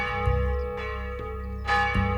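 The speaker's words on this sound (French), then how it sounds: "les cloches de l'église protestante qui retentissent chaque heure, de jour comme de nuit, depuis 1777" Protestant church bells ring out in slow, overlapping strikes, each resonant clang swelling and lingering over a steady sustained hum; no voices.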